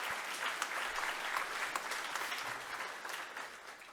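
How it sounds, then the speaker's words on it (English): An audience at a corporate reception applauds, a dense, steady wash of clapping from many hands that tapers slightly toward the end. "I think we should clap for that."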